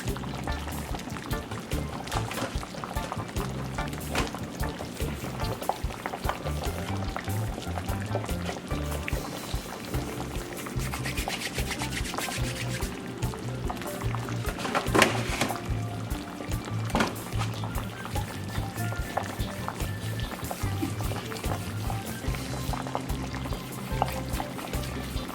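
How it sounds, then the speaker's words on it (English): Water poured into a pot of Jamaican pumpkin soup, a continuous splashing, gurgling flow that holds steady and close for about twenty-five seconds with no talking. "So if I need to add more water, I definitely will."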